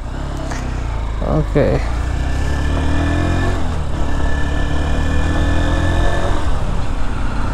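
A Honda Hornet 2.0 motorcycle being ridden, its engine droning steadily up close with shifting pitch as it moves, and a brief spoken word early on.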